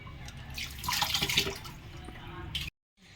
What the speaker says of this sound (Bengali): এখানে রেখে দিলাম যাতে ভালোভাবে জল ঝরে যায়